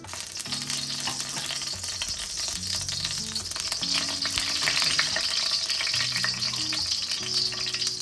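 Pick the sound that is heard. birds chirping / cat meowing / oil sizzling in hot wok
oil sizzling in hot wok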